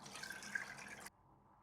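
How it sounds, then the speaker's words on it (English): Hot water pours steadily from a container into a frying pan on a stove, a close, even splashing stream that stops abruptly, leaving quiet room tone. "Place the frying pan on the stove and pour in some hot water."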